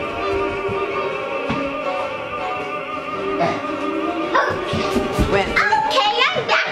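A puppy barks in short yips amid lively household noise, with children and adults talking and playing nearby.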